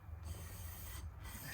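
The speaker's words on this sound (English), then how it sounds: "I'm just going to do a tiny bit of sanding on the treble side" Low-grade sandpaper rubs a Taylor Baby BT2e acoustic guitar bridge saddle, with extra pressure on the treble side. Faint, soft rasping strokes come in a slow back-and-forth rhythm, close up and alone.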